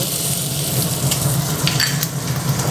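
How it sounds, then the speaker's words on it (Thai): Coriander root, crushed black pepper and chopped garlic stir-fry in hot oil, giving a loud, continuous sizzle with faint scraping of stirring and no talk. "เราก็ผัดพวกนี้ให้หอมสักครู่หนึ่งครับ"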